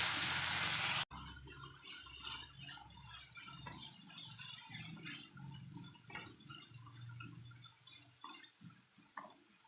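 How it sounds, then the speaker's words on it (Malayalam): Potatoes frying in oil in a pan for aloo palak matar give a soft, continuous sizzle with scattered scrapes and clinks from stirring, after a brief loud burst of hiss at the start. "നമുക്കൊന്ന് ഇളക്കി കൊടുത്തുകൊണ്ടേയിരിക്കാം."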